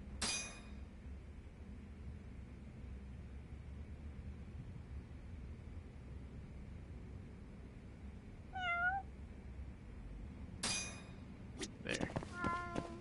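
A cat meows in the video game Judgment, one short rising-falling meow amid soft game ambience, followed by a bright chime and clinking effects near the end.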